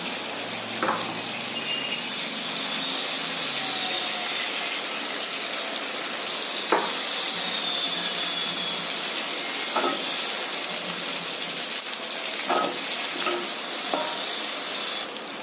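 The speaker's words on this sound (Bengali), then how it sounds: "আর একটু তেল দিয়ে পটলগুলো ভাজবো।" Pointed gourd pieces fry in oil in a pan, giving a continuous close sizzle and hiss with occasional soft stirring clicks and no speech.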